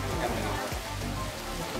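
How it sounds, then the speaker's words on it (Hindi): Heavy rain pours down outside a hospital and institute building in Delhi, a loud, dense, continuous roar of water close by. "यहाँ पे हो रही है बहुत बुरी तरीके से बारिश हो गई है चालू"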